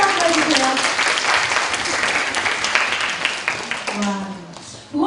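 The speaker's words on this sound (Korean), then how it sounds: "박수 한번 해주세요" Audience applause at a Korean youth forum, a dense wash of clapping from a crowded room with a voice speaking over it, fading toward the end.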